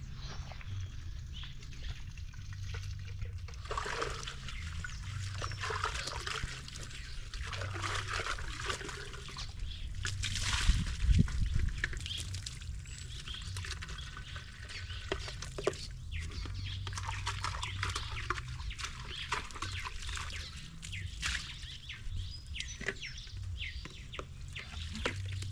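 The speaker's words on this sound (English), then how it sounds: "every time we change water, we have to wash the tin." Clean water trickles and splashes while a tin used as a chickens' water container is rinsed out in a countryside yard, a steady wet sloshing with scattered clanks and faint bird calls behind.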